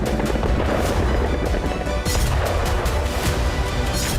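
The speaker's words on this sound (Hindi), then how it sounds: "ऊर्जा, गैस और बंदरगाह पर कई धमाके हुए हैं।" Repeated booms and blasts rumble in dense succession during wartime shelling in Odesa, Ukraine, heavy and continuous with sharp cracks over a low roar.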